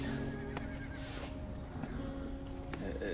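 A horse neighs in a stable scene from a French romantic film, a harmonic whinny rising over steady hoof clip-clop and low background rumble, with no talk.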